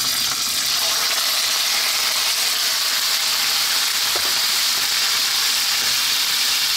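Pork belly fries in hot oil for a Filipino pork adobo with coconut, a loud, steady hiss and crackle of sizzling grease that holds evenly throughout without talk.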